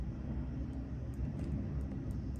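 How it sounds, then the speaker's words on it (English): An airplane passes overhead as a low, steady rumble that stays fairly faint and continuous for the whole stretch, with no voices over it. "And now I hear a plane flying above"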